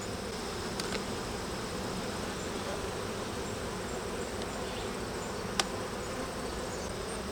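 Honeybees buzz around an open hive colony as honey supers are set back on it, a dense, continuous hum that holds steady throughout with a couple of faint clicks.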